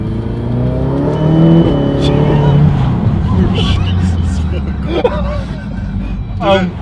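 An Audi TTS with an APR Stage 3 tune pulls hard under light throttle, its engine note rising loud and close from inside the cabin as people talk over it.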